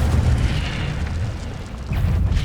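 A fire spell cast in the Hogwarts Legacy video game, a dense low booming roar with a fiery crackle that holds steady for a couple of seconds, briefly dips, then surges again.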